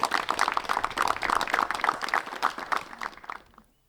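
An audience at a disc golf tournament applauds, a dense patter of many claps holding steady for a few seconds before tapering off into silence.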